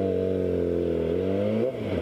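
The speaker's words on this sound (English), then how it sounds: "I'll rev up." A motorcycle engine held at a stop light revs up loudly and steadily nearby, its pitch climbing, then drops off abruptly near the end.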